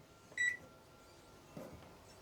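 A microwave oven run from an inverter in a camper beeps once and then starts up with a faint thump, heard quietly in a quiet interior.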